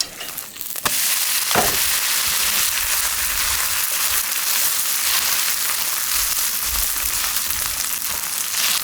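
A cabbage pancake pan-frying over high heat, with a loud, continuous close sizzle after a short clatter at the start and a brief scrape shortly after.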